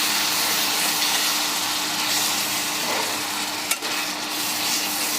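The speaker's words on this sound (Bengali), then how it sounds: "বাটা মশলা বাটা, জিরে বাটা, আদা বাটা ভালো করে নেড়ে চেড়ে কষিয়ে নেব।" Meat frying with ground cumin and ginger paste as it is stirred in a pan, giving an even, close hiss of sizzling with one brief scrape partway through, and no voices.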